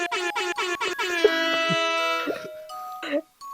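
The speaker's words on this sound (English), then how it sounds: "Me when air horn during tender moment." A loud, sustained air horn blast with harmonic tones, following a few rapid pulsed bursts, with brief voice-like sounds near the end.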